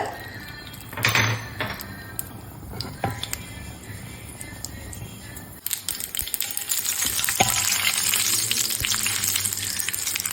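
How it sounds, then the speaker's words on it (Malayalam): Mustard seeds pop and splutter in hot oil in a pan, tempering for a Kerala pachatheeyal, with a crackling sizzle, sharp scattered pops and a few clinks, growing louder in the second half. "ഇനി നമുക്ക് കടുവറുക്കാം"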